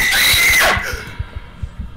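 A heartbeat in the horror video game The Mimic thumps in a steady, evenly spaced low pulse after a loud shrill screech fades out, with no voices over the beats.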